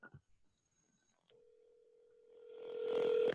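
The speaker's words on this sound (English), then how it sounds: "Can you hear it ringing?" A telephone call placed on speakerphone during a virtual meeting rings out, heard as a faint steady tone that starts after a brief pause and swells louder as the phone is brought nearer the computer microphone, with muffled handling sounds.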